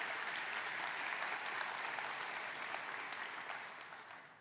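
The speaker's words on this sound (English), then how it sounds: "please join me in giving them a round of applause" An audience at a technology conference keynote applauds in a dense, sustained clatter of clapping that fades gradually toward the end, with no speech over it.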